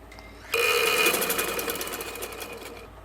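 A sewing machine stitching kurta panels together starts after a short quiet pause, then runs as a loud, fast, steady mechanical whir that slowly eases off.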